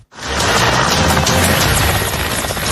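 Military helicopters during a joint Turkish-Azerbaijani air and land forces exercise, a loud continuous rotor roar rising abruptly from silence and holding steady close by, with no voices.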